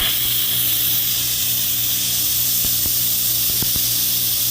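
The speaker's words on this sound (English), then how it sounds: "so we are going to go ahead and do the quick release" Steam hisses loudly and continuously from the valve of an Instant Pot during a quick pressure release after cooking hot Italian sausage, potatoes and green beans, with a few faint clicks underneath.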